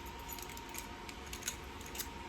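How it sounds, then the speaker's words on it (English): A bunch of car keys jangles lightly up close, with small metallic clinks and rattles at an uneven rhythm. "And then I have my keys. My car keys and all my keys, you know."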